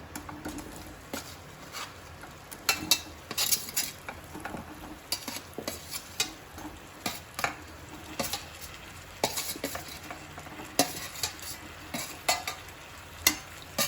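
Cut peaches being mixed with pickling spices in a bowl produce a series of close, wet scraping and clattering stirs that land in irregular strokes with short pauses between them.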